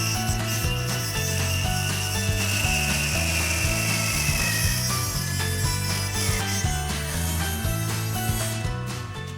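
A Dremel rotary tool cuts through metal bolts with a loud, steady high-pitched whine and grinding buzz that holds unbroken for about nine seconds, easing off only at the very end.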